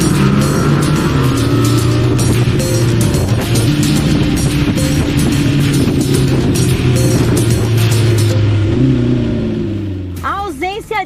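A Lamborghini Temerário hybrid supercar's engine roars close and loud for about ten seconds, holding a steady high rev with a pulsing exhaust note, then drops away as a brief rising whine and voices follow.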